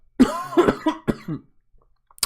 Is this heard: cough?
yes